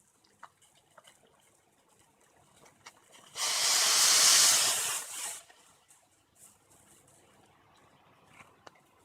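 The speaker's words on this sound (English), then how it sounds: "I'm boiling 2 cups of water. The water is boiling." Two cups of water boiling in a home kitchen pot for instant noodles, a loud broad hiss and bubbling rush that swells for about two seconds amid faint clinks and quiet room noise.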